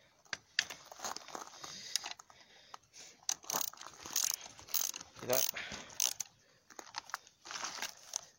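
Spring compressor being tightened on a BMW E46 shock absorber, a close series of ratcheting clicks and metallic creaks in irregular bursts.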